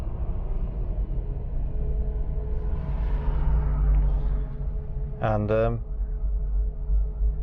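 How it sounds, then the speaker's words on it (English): A 1990 Range Rover Vogue SE fitted with performance ignition leads turns over with a short burst of cranking, then settles into a low, steady idle rumble, with someone talking over it. "Let's fire up the engine."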